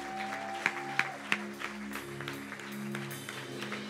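A baptism congregation gives light, scattered applause with a few sharper claps standing out over a steady organ-like drone, fairly faint and without talk.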